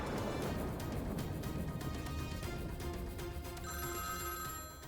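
Telephone ringing with a repeated electronic bell tone, fairly faint and steady across the whole stretch, no voices over it.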